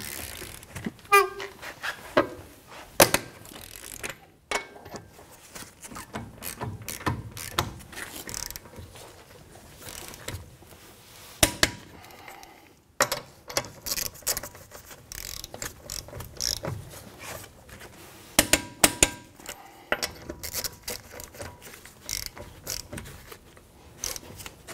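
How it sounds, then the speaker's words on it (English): A ratcheting torque wrench tightens the wheel lug nuts on an Acura MDX in a star pattern, producing repeated quick clicking ratchet bursts and occasional sharp clacks close to the microphone, without talk. "now we're going to torque our lug nuts down to 94 foot-pounds"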